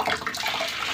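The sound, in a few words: water being added while hand-washing laundry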